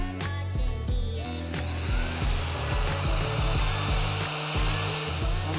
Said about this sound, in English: I'm currently sanding with 80 grit to take some of these machine marks out.